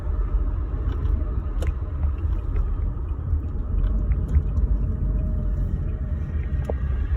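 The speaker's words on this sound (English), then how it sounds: "I'm just driving right now." A car is driving along, heard from inside as a steady low road rumble and engine drone, with scattered small ticks and clicks and no voices.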